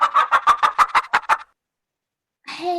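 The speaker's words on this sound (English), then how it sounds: "Hen. Hen." A hen gives a quick run of about nine sharp clucks in a steady rhythm, close and clear, followed by a short silence and a brief final cackle.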